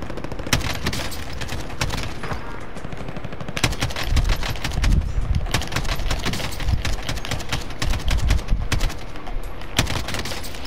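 Rapid automatic gunfire from a Warzone match, dense bursts and single cracks overlapping through the whole stretch, loud and close with heavy low rumble and no break in the shooting.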